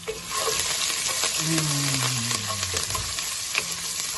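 Hard herbs dropped into a pan of browned garlic frying in oil for patatas bravas, giving a loud steady sizzle with a surging hiss and bubbling crackle, close up and without talk.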